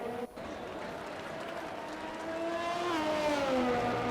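GP3 race cars cross the finish line at the Mexican Grand Prix, their engines droning steadily and rising in pitch and loudness toward the end as the cars pass close by, with a brief dip near the start.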